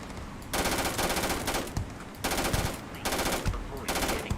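Rapid automatic gunfire in the Starfield video game during a fight with pirates, three long loud bursts separated by short breaks.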